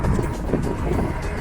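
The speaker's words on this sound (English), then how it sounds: "very, very windy" Steady, strong wind roars and buffets throughout, a broad low rumble with gusty swells and no voices.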